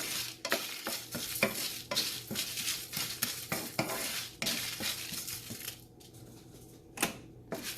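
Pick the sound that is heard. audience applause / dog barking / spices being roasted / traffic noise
spices being roasted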